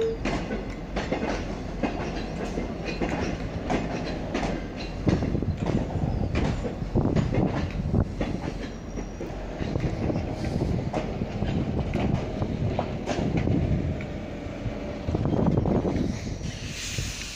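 Train reversing slowly into a siding at Bacchus Marsh station at night, a steady rumble of rolling stock with clattering wheel clicks and occasional faint squeals, heard from nearby outdoors with no talk.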